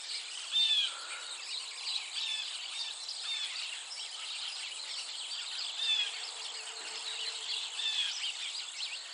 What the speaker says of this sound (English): Even the birds are happy. Just listen.